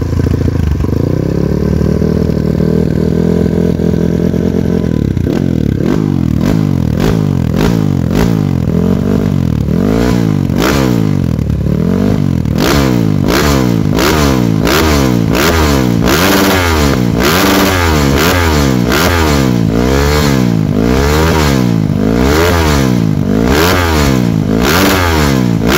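A 2025 Kawasaki KLX140RF dirt bike bored up to 220cc revs hard and close up, its engine rising and falling in quick, rhythmic throttle blips that grow busier and louder over time, with mechanical clatter underneath and no talking.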